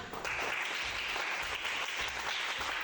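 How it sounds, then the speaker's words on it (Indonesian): Audience applause fills the room after group discussion presentations at a teacher coaching session, a steady dense clapping that holds at an even level throughout. "Kita beri aplaus bagi kalian semua."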